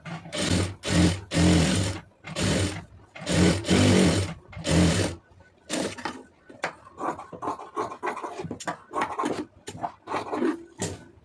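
A sewing machine stitching a blouse runs in several loud, even bursts separated by short pauses, then shifts to quieter, irregular stop-start stitching and handling sounds close by.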